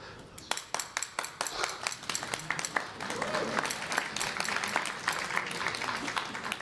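Applause from a crowd builds and fills the space, many hands clapping densely for several seconds, getting slightly louder toward the end.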